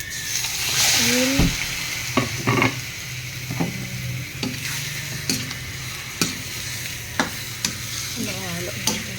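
Chopped onions sizzle in a little cooking oil in a pan for eel adobo in coconut milk, a steady frying hiss punctuated by repeated scraping knocks of a spatula stirring through the pan.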